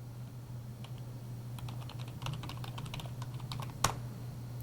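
Someone types a long password on a computer keyboard, producing a steady run of close, light key taps with a low background hum and one louder keystroke near the end. No one speaks.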